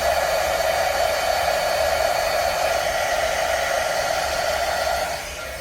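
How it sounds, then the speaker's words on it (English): A heat gun blows steadily to warm epoxy resin on a resin-art flower, a strong continuous whooshing roar close by that holds level for about five seconds, then drops slightly in strength near the end. "what I'm going to do with my heat gun is actually heat up my resin."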